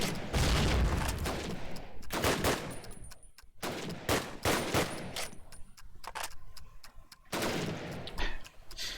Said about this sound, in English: Just shots whiffing past his ears